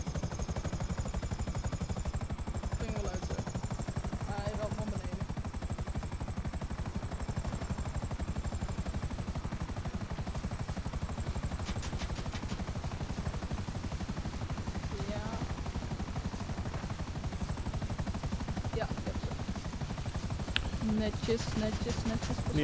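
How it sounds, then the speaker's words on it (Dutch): Helicopter rotor chopping steadily and loudly throughout in GTA 5 Online, set during an aerial dogfight over Los Santos, with faint scattered gunfire and talk over the continuous engine drone. "Op naar de volgende heli."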